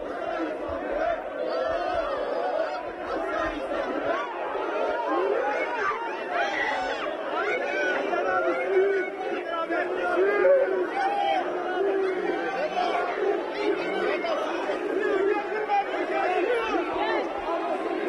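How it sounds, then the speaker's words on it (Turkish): A crowd of Fenerbahçe football supporters chants rhythmically for Osayi Samuel, a continuous dense roar of many voices from a moderate distance that holds steady without pause. "Osay Samuel tezahüratını duyabiliyoruz"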